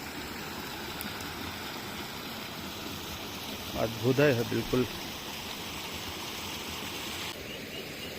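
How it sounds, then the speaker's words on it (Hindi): Water flows beside a forest path in the Binsar forests during the rainy season, giving a steady rushing wash from start to finish. Someone speaks briefly over it midway. "बगल से पानी बह रहा है,"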